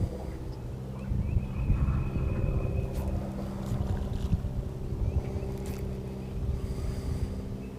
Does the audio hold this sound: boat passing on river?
yes